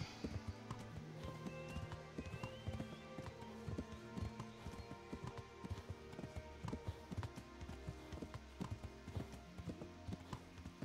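Horse hooves clip-clop steadily at a brisk trot in the video game Kingdom Come: Deliverance, a regular rhythmic patter over a low ambient bed, fairly quiet and without talk.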